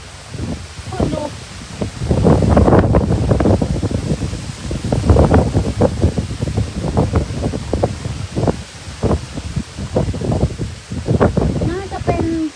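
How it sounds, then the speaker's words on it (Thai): Strong wind gusts buffet the microphone at a cave site, a broad rushing roar swelling and easing in repeated surges, with someone speaking at times over it. "ลมแรงมาก"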